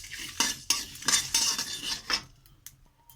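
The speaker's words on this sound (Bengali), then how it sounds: "আমি জোয়ান আর জিরেটা দিয়ে হালকা দিয়ে নেড়ে নেবো" A spoon stirs and scrapes coriander, carom and cumin seeds dry-roasting in a metal pan, giving several close, sharp scraping and clinking strokes in quick succession before the sound drops away.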